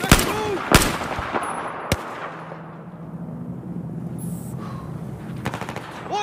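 Heavy gunfire in Battlefield 4 gameplay, loud sharp bursts near the start followed by scattered distant shots over a rumbling background.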